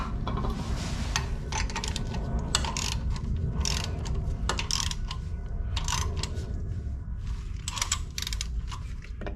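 A ratchet tightens a bolt on the right motor mount of a 2001 Cadillac Deville with a Northstar engine, giving steady close clicking and mechanical rattling with bursts of sharper ratcheting throughout.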